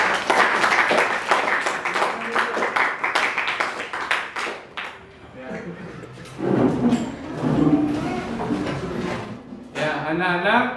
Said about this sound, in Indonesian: Ya, baik, kita kasih aplaus untuk kelompok.